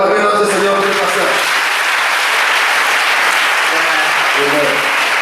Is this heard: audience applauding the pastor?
yes